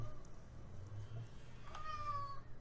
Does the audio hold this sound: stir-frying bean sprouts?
no